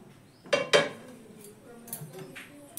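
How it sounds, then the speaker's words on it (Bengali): The lid of a cooking pot holding softened semolina comes off with two sharp, close metallic clinks in quick succession, followed by quieter handling sounds. "তো 10 মিনিটের পর আমি ঢাকাটা এবার খুলে নেব।"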